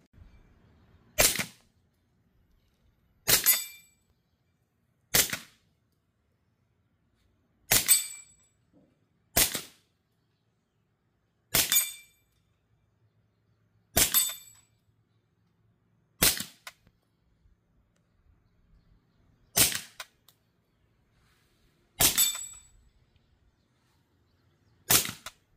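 A B&T SPC9 SBR 9mm fires single shots while plinking: ten sharp, loud reports spaced a couple of seconds apart, each with a brief decay and silence between.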